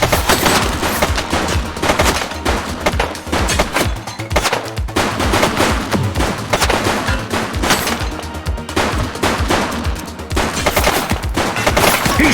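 Continuous loud gunfire in The Precinct, rapid overlapping shots and bursts from nearby weapons rattling steadily throughout with no pauses.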